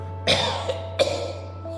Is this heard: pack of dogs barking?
no